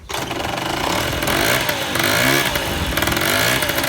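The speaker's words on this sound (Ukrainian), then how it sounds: "Значить, наш скутерок завівся." A small scooter engine runs on vegetable oil instead of motor oil, without its air filter or cooling shroud, idling and revving unevenly, loud and close, with no talk.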